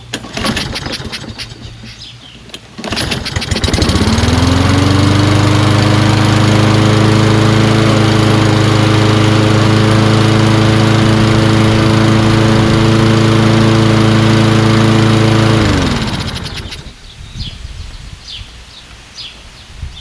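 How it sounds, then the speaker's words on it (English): A Kohler Courage 20 HP engine on a Craftsman LT2000 lawn tractor cranks briefly, catches and runs steadily at a loud, close idle for about twelve seconds before shutting off and winding down. "Let's see if this just starts."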